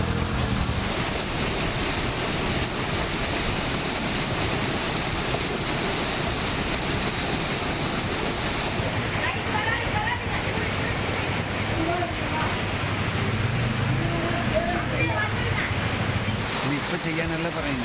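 Floodwater from heavy rain rushes through a blocked canal into a residential area, a continuous loud wash of turbulent water with wind buffeting the microphone, and voices heard faintly beneath it.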